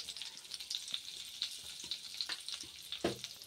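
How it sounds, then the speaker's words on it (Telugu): Kashmiri chili powder sizzles in melted butter in a pan for butter chicken, a steady hiss of frying with soft stirring taps, close and moderately loud, with no talking. "చికెన్ తీసుకున్న తర్వాత అదే ప్యాన్లో మరి కొంచెం బటర్ వేసుకొని మెల్ట్ చేసేసుకోండి"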